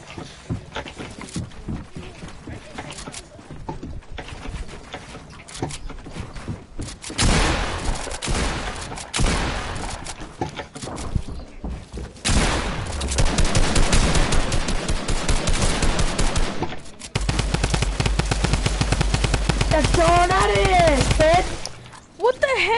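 Rapid automatic gunfire bursts in a shooting video game, dense loud volleys that start and stop over music and game effects, with a player talking now and then.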